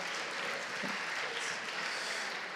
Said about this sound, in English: Round of applause. Congratulations.